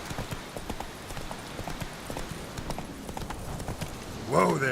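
A horse gallops in a video game, with a steady, rapid clip-clop of hooves throughout and a brief vocal sound near the end.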